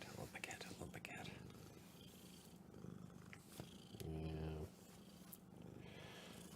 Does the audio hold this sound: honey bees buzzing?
no